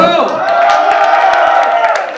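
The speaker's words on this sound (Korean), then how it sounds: "큰 박수 한번 주세요" A crowd of about 250 at a live concert cheers loudly, with whoops and scattered clapping forming a dense, sustained roar.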